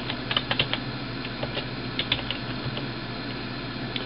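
Someone types on a computer keyboard in short irregular bursts of soft close keystrokes, with pauses between them, over a low steady room hum and no talking.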